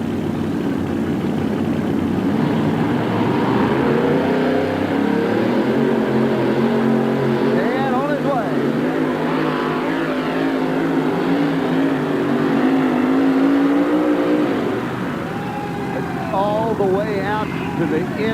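A 1987 monster truck with an aluminum supercharged Keith Black Hemi engine rumbles and revs at a competition, a low, heavy drone with rising surges that stays steady under continuous commentary from an announcer.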